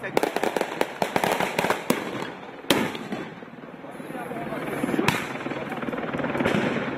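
Sharp explosive bangs and crackling fireworks rockets and police bombs burst repeatedly amid a loud crowd roar during a street clash between police and protesters, with a few big booms standing out over the chaotic din.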